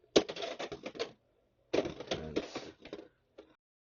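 A Beyblade X Chain Incendio with a 5-60 High Taper combo is launched into a stadium, giving two bursts of sharp rattling clatter as it strikes and skitters, with a faint final tick.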